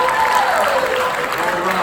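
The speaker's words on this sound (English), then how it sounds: "Clap your hand if you're really good" Teens at a leadership summit clap together in a steady, fairly loud wash of applause, with no talking over it.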